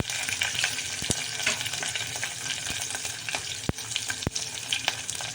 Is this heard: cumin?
yes